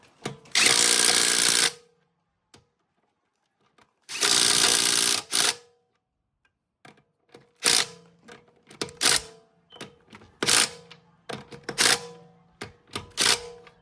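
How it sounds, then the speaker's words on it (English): Impact gun tightening rear wheel bolts on a Mercedes X166 in a cross pattern, two long loud rattling bursts followed by a series of shorter sharp hammering bursts, close and alone. "We go cross pattern, and we use the gun to tighten everything up."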